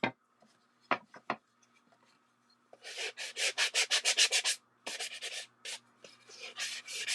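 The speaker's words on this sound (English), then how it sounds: "And I'm just smoothing the edges here because they're a little rough." Hand sanding of rough edges on small wooden pieces cut in a miter box: a few faint taps, then quick back-and-forth rasping strokes in a rhythmic run, close and fairly quiet, with no talk.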